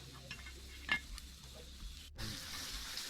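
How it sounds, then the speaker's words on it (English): Pork chop frying over a campfire of wet forest firewood, giving a soft, steady sizzling hiss with faint crackles and a brief clatter, quiet and close. "See, now it's cooking. Getting there. You can hear the sizzling."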